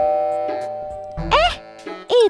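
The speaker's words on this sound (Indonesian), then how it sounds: "Tiba-tiba bel rumah berbunyi." A house doorbell rings with a two-tone chime, sounding clearly and ringing out over a decaying tone, followed by a cartoon voice exclaiming.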